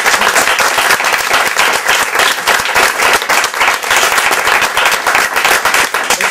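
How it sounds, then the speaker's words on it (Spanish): Theatre audience breaking into loud, sustained applause after a stage play, many hands clapping densely and continuously, close and full. "un aplauso especial para ellos."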